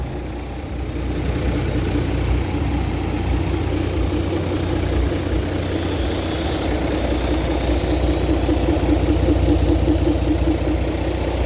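A Toyota Rocky's engine idles smoothly and steadily, a continuous low hum with faint vibration that stays close and even throughout, with no talking.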